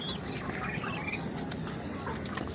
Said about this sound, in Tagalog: Ayan po mga kailongga ang aking mga pato.